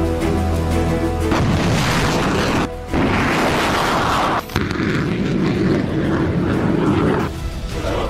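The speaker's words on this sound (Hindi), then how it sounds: "इस 1 मिनट के वीडियो में ज़ेलेंस्की ने अमेरिका से मिली M777 तोप से लेकर हिमार्स के रॉकेट हमले दिखाए" Artillery and rocket strikes from an M777 howitzer and HIMARS launcher in the Ukraine war, heard as a dense run of loud, continuous booming blasts and rumbling fire with brief breaks, no talk.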